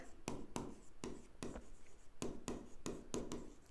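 Chalk or marker writes on a board during a class 11 accounts lecture: quiet, rhythmic strokes and taps in short bursts, close by, with no talking.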